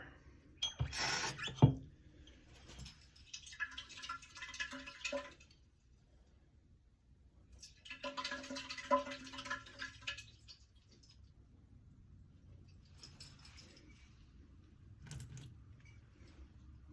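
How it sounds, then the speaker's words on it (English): Water poured in two short splashing bursts for glass cleaning, a few seconds apart, after a sharp click, with quiet pauses between. "I'm just gonna put in a small amount of water."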